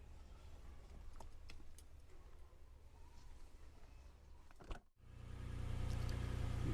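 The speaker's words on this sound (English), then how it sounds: "I just started the car there to bring the flip down monitor" A 2021 Toyota Alphard Executive Lounge with a 3.5-litre engine cranks briefly and catches, followed by a low steady idle rumble heard from inside the cabin, with a few light clicks beforehand.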